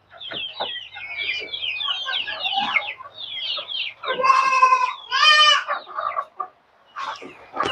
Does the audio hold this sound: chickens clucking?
yes